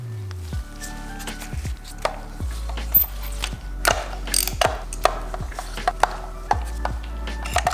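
A ratchet clicks close up while spark plugs are removed from a BMW N54 engine, with repeated bursts of rapid clicking separated by short pauses and no talk.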